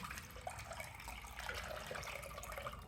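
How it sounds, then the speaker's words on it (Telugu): Water pours steadily into a cooking pan in a home kitchen, a continuous close splashing and trickling rush with no talk. "కోవా తయారీకి ఫస్ట్ కొంచెం నీళ్లు పోయండి"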